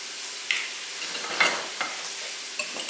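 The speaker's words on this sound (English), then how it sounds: "Give it a whisk." Whisk beating two whole eggs and an extra egg yolk in a bowl for spaghetti carbonara, a few short quiet clinks and scrapes at irregular intervals, faint and close, with no talking.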